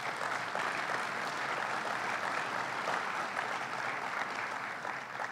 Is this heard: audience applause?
yes